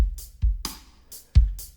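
Programmed drum-kit beat from a DAW in an indie production: deep kicks and bright cymbal-laden snare hits alternate in a steady, loud pattern with no voices.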